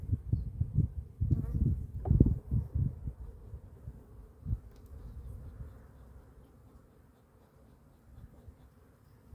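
Honeybees buzz around an open hive during a February inspection of brood frames. A dense, low, steady hum swells and fades, with occasional handling noises up close.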